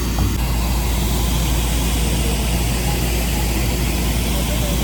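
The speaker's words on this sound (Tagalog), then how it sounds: "Lumipad na tayo." Steady, loud engine roar fills an airplane cabin, a constant broadband drone with deep low rumble that holds evenly throughout.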